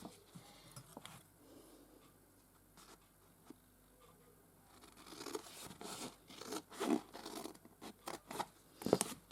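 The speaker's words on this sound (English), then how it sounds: "don't like those scissors when I've got to cut long pieces" Scissors snip through paper during vintage-style floral journal crafting, a quiet stretch giving way to a run of louder, uneven crisp cuts and rustles near the end.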